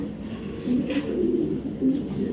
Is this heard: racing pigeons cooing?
yes